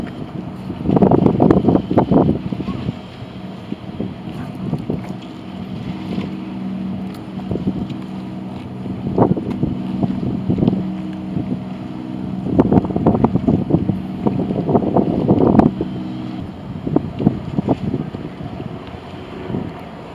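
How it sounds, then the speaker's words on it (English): Boats on the Hudson River, with wind buffeting the microphone in loud repeated gusts over a low steady hum of passing engines, fairly close and outdoors. "The Hudson River has a lot of great boat action."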